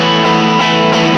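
Electric guitar pushed through an overdriven distortion pedal, the guitar's volume knob rolled back to about 8, rings out as a thick, sustained, harmonically rich chord, loud and steady with no voices.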